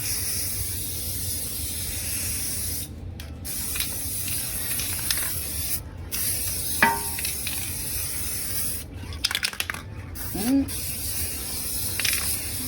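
Spray paint hisses from an aerosol can into the inside of a terra cotta pot in bursts of steady, close spraying broken by short pauses and a few faint knocks.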